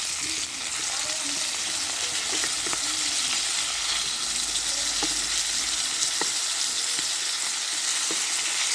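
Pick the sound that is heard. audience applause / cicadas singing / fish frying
fish frying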